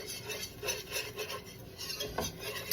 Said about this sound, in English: I'm gonna add my 5 tablespoons of flour, and I'm gonna get this whisking